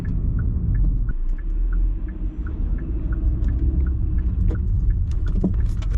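Car driving in heavy traffic: a steady close engine and road rumble inside the vehicle, with a regular soft ticking like an indicator and some faint clicks and knocks, no talk.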